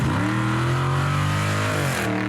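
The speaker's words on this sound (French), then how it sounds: "un beau V8 avec une belle sonorité." A Dodge Charger V8 revs loudly and steadily at close range, its deep rumbling engine note holding strong throughout with a slight drop in pitch near the end.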